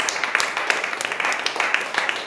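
Congregation applause at a church sermon, steady dense clapping from many hands spread throughout, fairly loud and continuous with no speech over it.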